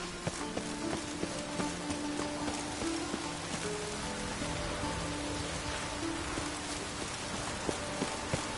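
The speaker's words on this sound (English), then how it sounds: "The rain will cleanse the city streets of filth." Steady rain pours on city streets in The Witcher video game on PS4 in a dense, even hiss throughout, with a faint tonal hum running underneath.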